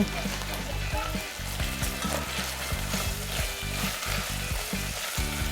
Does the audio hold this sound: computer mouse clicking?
no